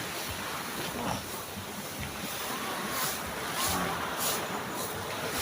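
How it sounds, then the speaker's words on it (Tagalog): Rough ocean surf crashes and washes continuously, mixed with gusty wind buffeting the microphone, loud and close. "malakas yung alon"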